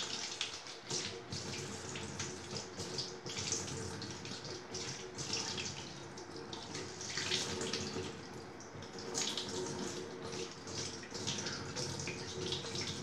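Vinyl record being washed with a detergent-moistened sponge and running water, a steady splashing tap-like flow with scrubbing and dripping textures, moderately close and uninterrupted.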